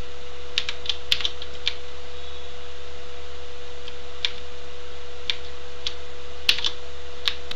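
Scattered keystrokes on a computer keyboard while entering HTML form code, sparse taps and clicks at irregular intervals over a steady low mains hum, with no talking.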